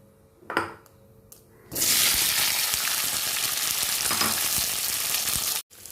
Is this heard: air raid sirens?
no